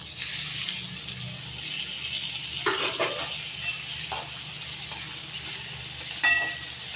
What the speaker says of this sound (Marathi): कांदा गरम झाला आता टोमॅटो घालायचा